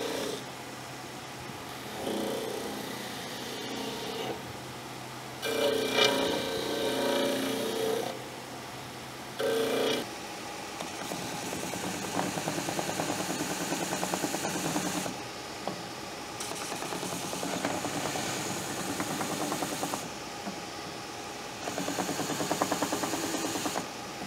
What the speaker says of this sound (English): So let's go over the sander, and I'll just sand it down a little bit.